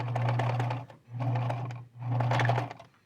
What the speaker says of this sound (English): Now we're back to the sewing machine.